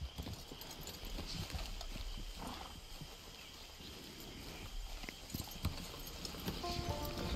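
Horse hooves clip-clop steadily in Red Dead Redemption 2 online, a continuous rhythmic trot at moderate level over game ambience, with a brief whinny-like tone near the end.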